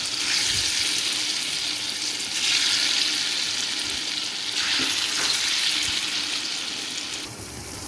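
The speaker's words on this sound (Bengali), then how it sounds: "ছোলার ডাল পেস্ট করে নিয়েছি কালো জিরে হলুদ নুন দিয়ে এটাকে ফেটিয়ে ছোটো ছোটো বড়া বানিয়ে নেব" Small fritters of chickpea lentil paste mixed with nigella seeds, turmeric and salt frying in mustard oil, giving a steady, loud, continuous sizzle with slight surges throughout and no one talking.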